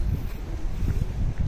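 Strong wind buffets the microphone outdoors at Keukenhof gardens in the Netherlands, a low, gusty rumble that swells and eases continuously.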